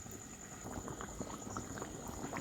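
Chicken curry bubbling steadily in a pot, a dense, continuous simmer of small pops and gurgles at close range, with no voices over it.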